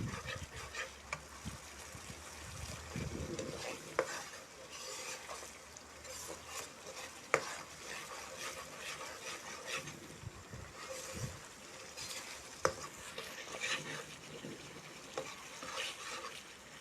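Sambal tumis sautéing in a pan, a continuous dense sizzle with occasional stirring scrapes and a few sharp clicks, fairly quiet and steady throughout.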